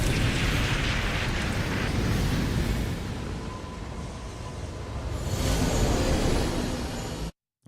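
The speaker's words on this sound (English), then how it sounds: "Why do they have to flashbang?" A flashbang goes off in Code Vein as a loud, broad roaring blast that eases off, swells again with a second burst, then cuts to sudden silence at the end.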